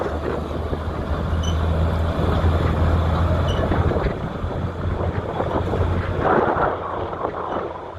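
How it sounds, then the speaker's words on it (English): Steady wind buffeting a microphone at an outdoor tractor pull, a continuous low roar with gusty rumble throughout, loud and close, no clear voices. "I got the shakes, it's windy"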